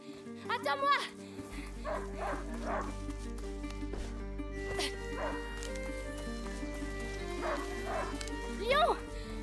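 Hunting dog Lion barks in A Plague Tale: Innocence, a cluster of sharp barks at the start and another near the end over a steady game soundtrack and low hum.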